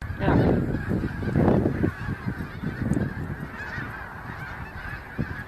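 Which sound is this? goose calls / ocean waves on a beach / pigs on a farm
goose calls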